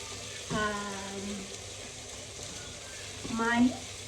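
Shrimp sautéing in a hot pan, a steady sizzle under two brief bursts of a voice, with faint stirring and clatter between them.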